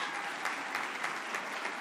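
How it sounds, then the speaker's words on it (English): At a student television awards ceremony, an audience applauds an award winner in a steady, dense wash of clapping that holds at an even level throughout. "Please give Ariana another round of applause."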